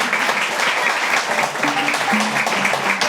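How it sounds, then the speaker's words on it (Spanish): An audience claps steadily for Mafe Carrascal at the close of a Fes Cultura podcast, a dense continuous wash of applause throughout, close and loud, with faint voices underneath. "Démosle un aplauso a Mafe"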